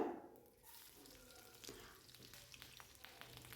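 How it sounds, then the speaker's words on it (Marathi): Finely chopped garlic sizzles in hot oil in a home kitchen, a soft, steady frying hiss with faint stirring scrapes, close and fairly quiet, no voices. "लसूण पण छान तेलाव परतून घ्यायचं आहे"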